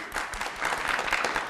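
Brief, fairly soft applause from a talk show studio audience, a dense patter of many hands clapping for a moment.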